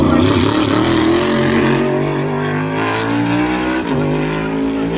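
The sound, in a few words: NASCAR race car driving away after pit stop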